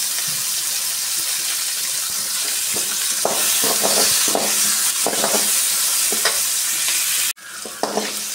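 Onions and tomatoes sauté in a pan for a white vegetable kurma with a loud, steady sizzle. Repeated spoon-stirring scrapes run through it, with a brief break near the end.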